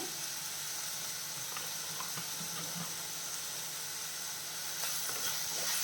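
Onions sautéing in oil in a pan over a medium flame for a crab roast, a continuous close sizzle with occasional light stirring taps and scrapes.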